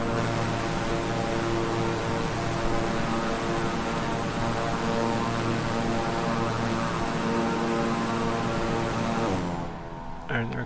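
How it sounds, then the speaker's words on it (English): A Beechcraft 350i King Air propeller plane in Microsoft Flight Simulator, flying near Austin and San Antonio, gives a loud, steady, tonal engine drone with propeller hum that holds for about ten seconds and then quickly fades away. "And there goes the plane."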